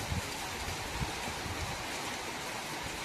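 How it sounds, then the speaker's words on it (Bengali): Heavy rain pours down as a dense, continuous hiss of falling water, loud and steady throughout with no voices. "দেখতে পাচ্ছ কত জোরে বৃষ্টিটা নামিয়েছে"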